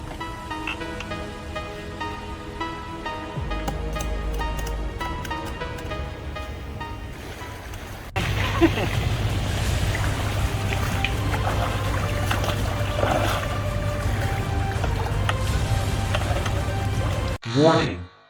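A homemade amphibious vehicle driven by a scooter churns through water, with a steady low motor drone and splashing that grows louder midway and runs on continuously before cutting off abruptly at the end.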